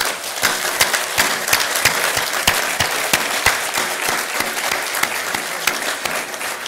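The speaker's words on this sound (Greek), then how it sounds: "θα ήθελα από καρδιάς να σας ζητήσω ένα ζεστό χειροκρότημα για αυτά τα παιδιά." Warm, sustained applause from an audience at the launch of the Hellenic Space Agency, dense steady clapping with a few sharper individual claps standing out, continuous and fairly loud throughout with no talking.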